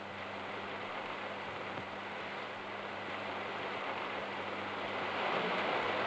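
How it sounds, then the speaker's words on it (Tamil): A sudden rain shower: dense, steady hiss of rain falling, constant and fairly loud throughout, growing slightly heavier toward the end, with no voices. "என்ன இப்ப திடீர்னு மழை அடிக்குது?"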